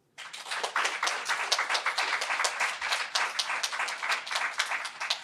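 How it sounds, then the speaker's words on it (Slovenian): Audience at a closing conference applauding for Katjuša, dense sustained clapping from many hands starting abruptly and continuing steadily throughout. "In še enkrat bi prosil, da Katjuši zaploskamo."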